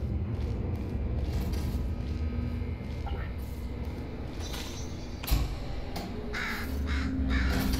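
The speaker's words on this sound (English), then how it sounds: "Bird!" A crow cawing in Portal Stories: Mel, several harsh caws near the end over a steady ambient hum.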